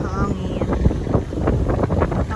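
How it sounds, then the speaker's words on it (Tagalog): Strong wind gusting across open ground near Mount Kalisungan in Calauan, Laguna, a loud continuous rumbling roar buffeting the microphone, with faint voices briefly audible underneath. "sobrang lakas ng hangin"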